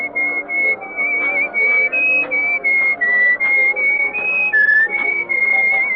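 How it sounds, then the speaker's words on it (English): A person whistles a tune, a clear, close, loud melody of sustained notes in short phrases with brief pauses between, stepping up and down in pitch, heard alone without talk. "you were whistling our tune"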